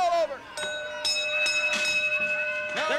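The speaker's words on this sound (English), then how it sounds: "Ring the bell. It's all over." A wrestling ring bell clangs repeatedly at the end of a match, several bright metallic strikes with ringing tones, heard over crowd noise and an excited commentator's voice.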